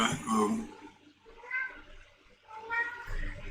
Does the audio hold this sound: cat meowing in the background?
yes